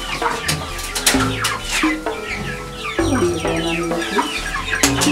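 Several chickens cluck and squawk close by in a busy, overlapping stream of calls with no pause.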